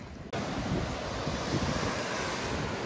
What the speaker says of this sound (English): Look at these waves, guys.